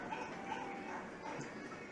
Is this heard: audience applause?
no